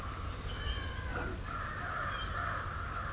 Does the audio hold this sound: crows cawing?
yes